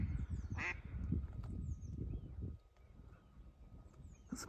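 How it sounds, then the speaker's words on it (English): Ducks on the shore of Loch Lomond near Milarrochy Bay give a few faint quacks against soft, low outdoor rumble, heard at a distance with quiet gaps between calls. "Got some ducks down there enjoying themselves."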